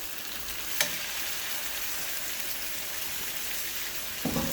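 Fish fries in oil in a pot for a Jamaican curry steamed fish, a loud continuous rain-like sizzle with a brief clatter early on and a slight swell near the end.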